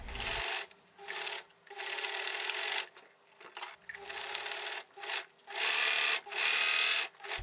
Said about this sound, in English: I sew the left side, which doesn't have the slit, from the sleeve to the waist